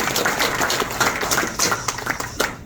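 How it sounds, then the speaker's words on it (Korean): Audience at a political party press event applauds steadily, dense close clapping for a couple of seconds with no voices over it. "큰 박수로 맞아주시기 바랍니다."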